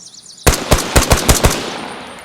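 A rapid volley of about eight sharp gunshots rings out in quick succession, loud and close, then trails off into a lingering echo, gunfire in the game Arma Reforger with Peltor hearing protection disabled.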